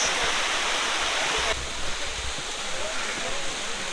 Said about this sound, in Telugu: ఇది కూడా వాటర్ ఫాల్స్.